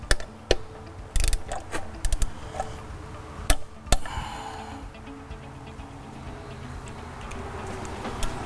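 A torque wrench ratcheting bolts down to about 189 inch-pounds during a diesel truck part install, giving bursts of sharp clicks that stop and restart, then fade into a quieter mechanical hum near the end.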